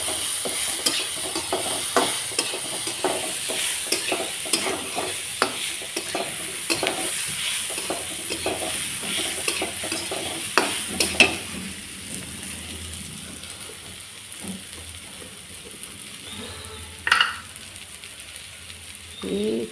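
Green chilies and garlic sizzle and crackle steadily in hot oil in a pan, with sharp pops scattered throughout and occasional stirring scrapes, close and fairly loud with no talk.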